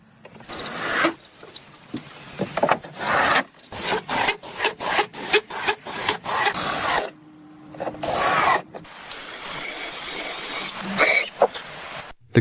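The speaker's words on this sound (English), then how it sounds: "The skilled craftsman is meticulously installing wooden planks onto the walls of the dream house." Wooden planks being fitted onto the walls of a large log home in the wilderness, with a series of sharp, evenly spaced knocks and scraping rubs of wood, some loud, rapid bursts, and a few pauses, with no talking.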